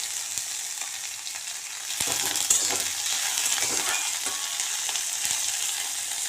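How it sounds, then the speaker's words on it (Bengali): Chopped vegetables and tomato frying in a pan over a flame, a continuous close sizzle that grows louder midway as the tomato goes in, with scattered clinks and scrapes of stirring and no talking. "এবার আমরা দিয়ে দিচ্ছি টমেটোটা দিয়ে এভাবে নেড়ে নেবেন"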